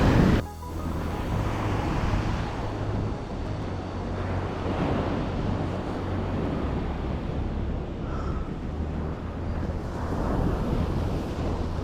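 Waves break steadily at Kalalau Beach on Kauai's Napali Coast, a loud continuous surf roar mixed with gusting wind buffeting the microphone, with no voices.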